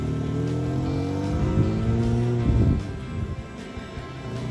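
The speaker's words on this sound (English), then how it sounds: "It's not your typical fishing vehicle." A car serving as a fishing vehicle drives along with a steady, loud engine hum that swells briefly as it revs, then settles back into an even drone with no voices.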